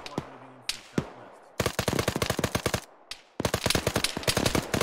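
Rapid automatic gunfire in a cooperative military shooter game, two long, loud bursts of sharp, evenly spaced cracks with short pauses between them, preceded by a few isolated single shots.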